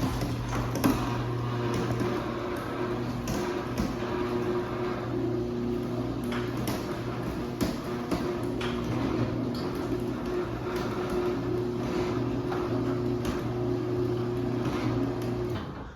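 A Stanley ST400 garage door opener runs in a garage, a steady motor hum and drone with a faint rattling chain and door movement that continues evenly for the whole stretch before cutting off at the end.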